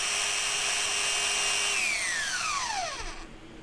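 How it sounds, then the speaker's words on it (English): A power sander grinds excess material off homemade bicycle brake pads, giving a loud, steady high whine that slowly drops in pitch and fades as the tool spins down, with no talking. "Now it's up to you how you get rid of the excess material, but the sander is hard to beat."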